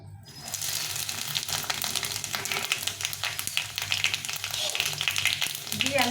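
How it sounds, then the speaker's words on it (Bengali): Panch phoron spices dropped into hot oil for a raw mango pickle, crackling and sizzling loudly and steadily up close, with a brief quiet moment before the burst. "তেলটা গরম হয়ে গেছে এর মধ্যে আমি কিছুটা পাঁচফোড়ন দিয়ে দেবো"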